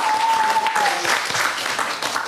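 A whole hall bursts into sustained applause at an intellectual quiz show, dense and loud clapping throughout, with a voice briefly heard over it at the start.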